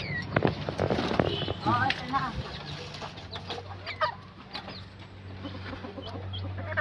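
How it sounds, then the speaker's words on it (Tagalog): A white red junglefowl (labuyo) hen with small chicks clucks in soft, repeated calls at close range, with a steady low hum and other background noise underneath. "Yun ang aking munting mga alaga, si Puti, puting labuyo."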